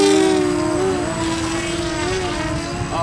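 Homemade submarine airplane flying after surfacing from water, its propeller giving a loud, steady droning whine with a wavering pitch, close and continuous throughout.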